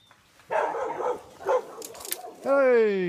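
A voice speaks briefly, then a dog lets out a drawn, whining bark-like yelp at the end, close by.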